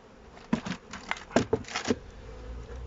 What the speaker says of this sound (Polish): Tu już są pszczoły, zazwyczaj pszczoły w nadstawce są już obleciane.